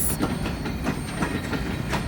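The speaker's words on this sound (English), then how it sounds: "Goodbye, train." A freight train rolls past close by, its wheels beating out a regular clickety-clack of repeated bursts over a steady low rumble, with no talking.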